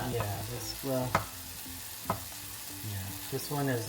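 Chicken smashburger patties fry in a hot pan, giving a steady sizzle with a few sharp clicks and scrapes while people talk briefly over it.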